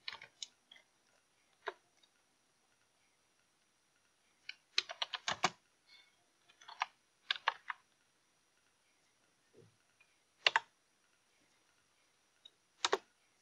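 Keystrokes on a computer keyboard as commands are typed into a Linux terminal on Debian with Openbox, coming in short clustered bursts separated by pauses, close and fairly quiet with no voice.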